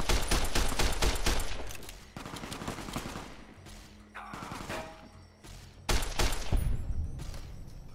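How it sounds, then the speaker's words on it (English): Rapid gunfire in Fallout New Vegas, dense bursts of automatic shots crackling continuously, easing briefly in the middle before a loud fresh volley resumes near the end, with no talking over it. "I'm under fire right now."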